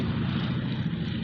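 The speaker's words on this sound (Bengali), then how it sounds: "এই একটা বিমান নামতেছে" A fixed-wing airplane coming in to land makes a steady, loud propeller-engine roar. It holds constant across the short moment with no talk.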